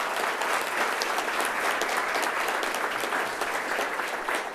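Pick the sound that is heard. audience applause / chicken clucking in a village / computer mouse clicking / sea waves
audience applause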